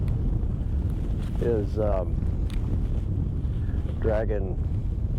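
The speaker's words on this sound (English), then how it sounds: "man, it's getting windy" Wind blowing across a lake during a fishing outing, a steady low roar buffeting the microphone throughout, with someone speaking briefly over it.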